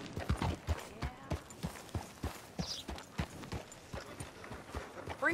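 Horse hooves clip-clop in Red Dead Redemption 2, a steady, even rhythm, close and clear, with a faint whinny partway through and little else around.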